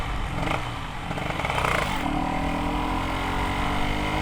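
A modified 1983 Yamaha RX King Cobra two-stroke motorcycle engine runs close up, loud and raspy, with a brief rev swelling and settling back to a steady buzzing idle.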